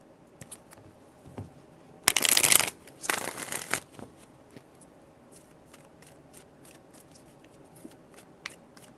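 Tarot cards being shuffled up close in two brief loud riffling bursts, followed by quieter taps and small card clicks, with no talking.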